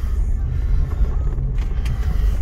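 A pickup truck heading out on a road trip to California with dogs aboard: a steady low engine and road rumble heard from inside the cab, continuous and fairly loud with no talking.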